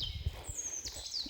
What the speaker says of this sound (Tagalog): At iba-ibang tunog ng ibon